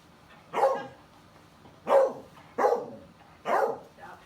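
A small dog barks five times at close range, short sharp yaps spaced irregularly during a trick-training session.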